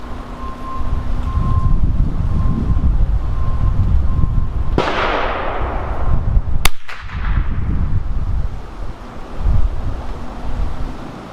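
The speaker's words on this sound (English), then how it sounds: "It's really windy out here today" Gusty wind roars and buffets the microphone in rising and falling waves, with a sharp crack partway through.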